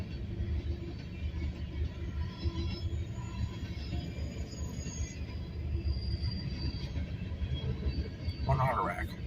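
A freight train with an auto rack and loaded salt hoppers rolls past close by, with a continuous heavy rumble, clattering wheels and thin squeals, and a short burst of talk near the end.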